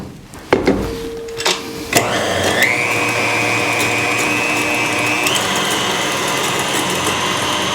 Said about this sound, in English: I start my mixer, and it's going to be very loud.